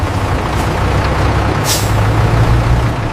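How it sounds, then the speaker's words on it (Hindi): Air brakes on a vehicle slowing at a highway checkpoint at night release a sharp hissing burst midway through, over a steady, loud low engine rumble. "मैं गाड़ी आहिस्ता कर रहा हूं।"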